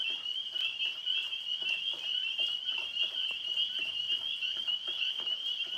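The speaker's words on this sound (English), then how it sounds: "those are tree frogs. They are up in the tree right above me." A dense chorus of tree frogs calls from overhead in apple and maple trees at night, a continuous high trill that stays steady and fairly close, with no voices over it.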